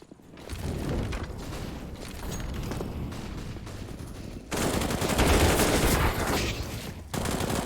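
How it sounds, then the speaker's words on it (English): Submachine guns rattle off in a shooter game, rapid bursts of gunfire crowding together and swelling louder in the second half, close and dense, with no talk. "the SMGs just mow them down"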